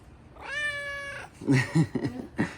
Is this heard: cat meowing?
yes